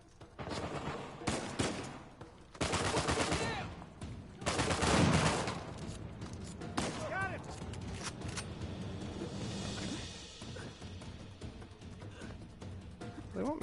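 Gunfire in a first-person shooter game as barrels are shot, with sharp bursts of automatic fire and loud blasts in clusters, separated by quieter stretches of lingering rumble.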